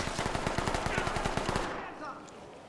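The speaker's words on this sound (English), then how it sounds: "Where am I being shot from?" Automatic gunfire in a Los Sueños video game, a rapid burst of evenly spaced shots lasting under two seconds, loud and close, then cutting off to quiet.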